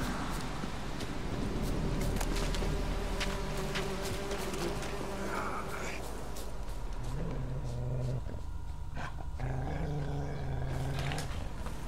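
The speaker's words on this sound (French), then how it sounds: "Voilà, ça a l'air d'être un loup plus qu'autre chose." Wolves in The Witcher 3 growl and snarl over a constant droning game ambience of buzzing and rumble, with several low guttural growls rising in the latter half, fairly close and no speech.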